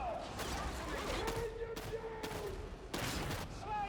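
Gunfire from enemy gunners in the video game Darktide, a dense fusillade of bursts with loud impacts and some in-game voices, heard throughout at close range.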